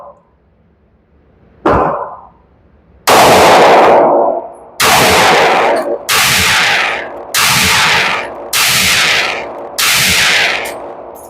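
A Sig Sauer P365 AXG Legion pistol fires about seven sharp, loud shots at a steady, unhurried pace. Each crack is close and distinct, with a short ringing tail and brief pauses between rounds.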